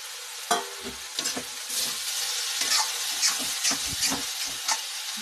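Mustard-flower mutton sizzles and fries in a pan, with repeated stirring scrapes and clatters over a steady, close frying hiss.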